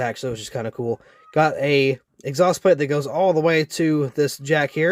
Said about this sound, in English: You might hear my cat meowing in the background.